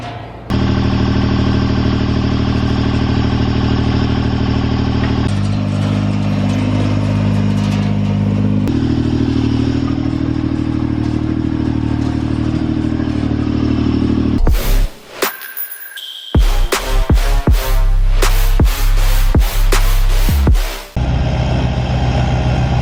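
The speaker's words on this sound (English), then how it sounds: "we're taking the John Deere down to the barn to take off the front snowblower" A John Deere tractor engine runs loud and steady nearby, its pitch shifting a few times, then breaks into choppy clattering bursts and revving toward the end; no talking.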